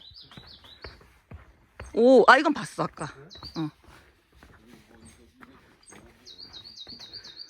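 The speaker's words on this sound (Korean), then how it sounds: "새소리" Small birds chirp in quick repeated trills at the start and end on a summer mountain trail in Sobaeksan, while people talk and exclaim nearby in between.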